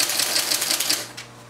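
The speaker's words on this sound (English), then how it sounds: "And this Selectric typewriter, very rare one at that" IBM Selectric typewriter typing at a steady quick pace, dense overlapping key strikes close up and fairly loud, easing off near the end.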